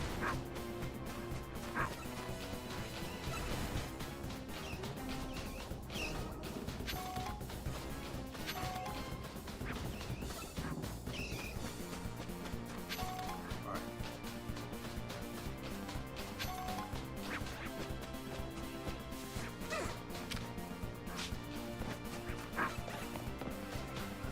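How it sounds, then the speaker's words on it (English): A dog barks several times in the background, mixed under continuous game music during a Pokemon Legends ZA livestream, the barks faint and partly masked. "I keep on hearing a dog."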